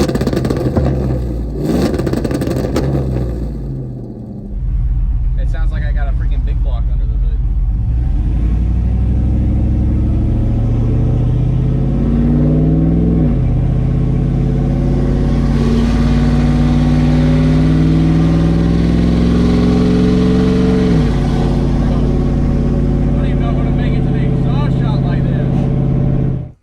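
A cammed truck engine with a 2-step setup revs hard and very loud, with a choppy idle that climbs into long rising and falling roars of throttle; a person talks briefly near the start.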